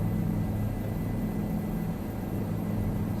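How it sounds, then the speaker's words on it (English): Helicopter cabin noise in Microsoft Flight Simulator 2020, a steady loud low rotor rumble with a droning hum throughout and no voices. "This helicopter makes a lot more clunking sounds."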